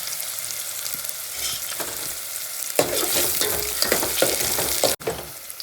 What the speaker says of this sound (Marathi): कांदे मस्त लाल होऊ द्यायचे